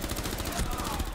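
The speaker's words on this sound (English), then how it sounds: "I shot him through the wall by accident" Gunfire in Rainbow Six Siege, fired through a wall: a rapid burst of loud, close shots packed into about a second, with voices faintly mixed in.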